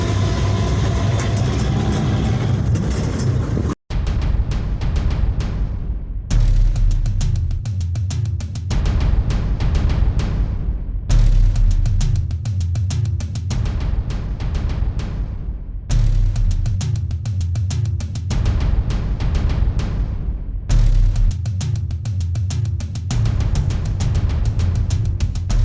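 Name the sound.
long line of trucks, tractors and trolleys on road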